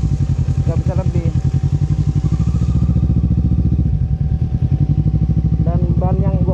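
Kawasaki ER6N motorcycle crawling at about 9-10 km/h along a forest trail near Surade, its steady low engine note running throughout with clattering over rough ground, while a rider talks over it.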